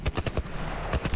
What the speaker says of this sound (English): Why would you open fire on that guy?